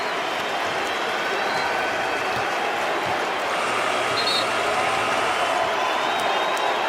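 A large NBA home crowd roars and cheers steadily in an arena, a broad wash of noise with scattered whoops, continuous and loud for several seconds.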